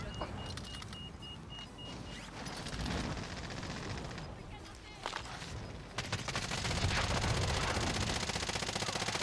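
Gunfire in a Call of Duty: Warzone match, dense bursts of shots under engine and vehicle noise, growing louder and more sustained in the final seconds.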